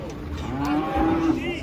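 Female cattle crowded in a pen let out a loud, close moo, a drawn-out lowing call of just over a second over a background of shuffling, with no speech.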